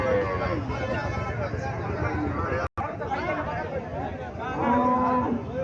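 Desi cows and other cattle low and moo amid the bustle of a village cattle market in Comilla, with people talking and chattering close by throughout.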